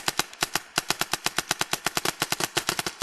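An E-MR1 paintball gun fires very rapidly: a steady, evenly spaced stream of sharp pops, about ten a second, loud and close, with no talk.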